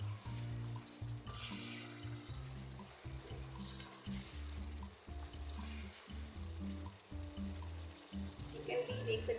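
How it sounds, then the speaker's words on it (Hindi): Chicken karahi stir-fries in a pan once the yogurt liquid has cooked off, a steady sizzle with scraping under someone talking throughout. "अब मैं इसकी अच्छे से बुनाई कर लेती हूँ।"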